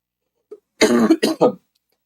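A close, loud cough: a small throat noise, then three harsh bursts in quick succession, followed by silence.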